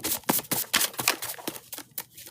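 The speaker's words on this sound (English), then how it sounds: "One more shuffle." Tarot cards being shuffled by hand in rapid bursts of crisp riffling and slapping, close and fairly loud, with no talking.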